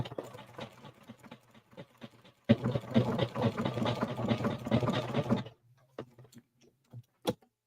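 A home sewing machine runs a zigzag stitch on applique fabric over a beach towel, whirring steadily in one sustained burst between quieter pauses with light handling clicks.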